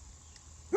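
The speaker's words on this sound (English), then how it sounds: "pardon the dog again" A single dog bark, a short sharp bark near the end after near silence, heard close and loud against a faint background hum.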